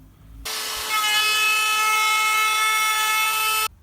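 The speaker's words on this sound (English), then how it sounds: "The flush trim bit in the router brings them nice and tight to the edge of the drawer." A trim router with a flush-cutting bit riding on a bearing screams steadily as it trims the excess off the bottoms of wooden drawers, a loud, high whine that starts abruptly, holds for about three seconds and cuts off.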